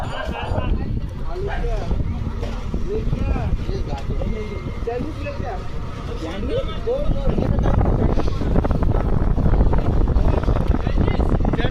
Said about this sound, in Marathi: आता ही बोट चालली.